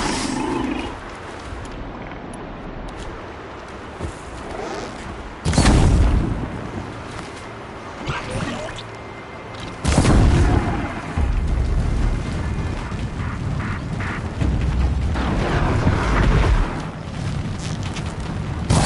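Corrupted machine creatures attacking in Horizon Zero Dawn: growling, roaring cries and heavy booming impacts over a continuous rumble, loud and close, with strong bursts at intervals.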